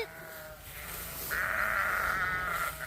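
Sheep in a farm pasture give drawn-out bleats, one fainter call early and then a louder, closer sustained bleat through most of the stretch, with no talking over it.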